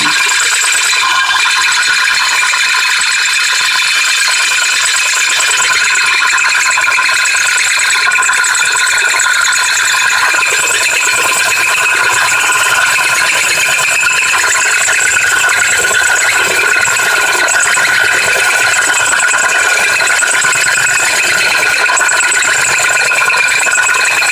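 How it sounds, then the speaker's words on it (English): A drill grinds steadily through a glass wine bottle, a loud, continuous mechanical whirring and rattling that runs without a break. "let's keep drilling"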